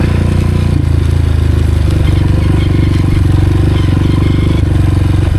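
A Honda CRF 230F dirt bike engine running steadily and loud, a close, continuous low throbbing drone with slight revving at a mountain trail destination, no talk over it.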